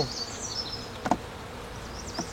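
A honeybee colony buzzes steadily close up, a dense hum with brief louder swells as individual bees pass near, and no voices.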